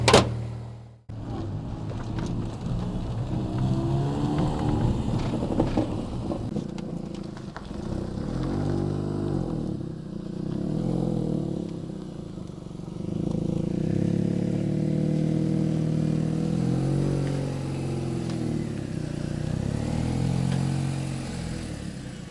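A MINI Cooper S John Cooper Works GP (R53) creeping into a workshop, its engine idling and rising in a few low revs as it rolls in slowly, close and steady without talk.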